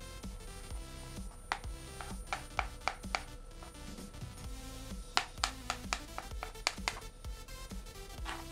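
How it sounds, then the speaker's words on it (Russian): Rapid knife chops through boiled eggs, dicing them into cubes on a cutting board, sharp clicks in quick bursts with short pauses, close and clear. "Вареные яйца мы нарезаем"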